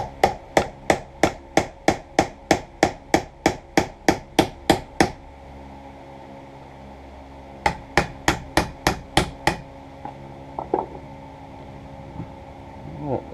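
Steady, evenly spaced blows from a hammer's peen ring on metal while shaping a survival knife, a long run of about fifteen strikes, a pause, then another burst of ringing hits.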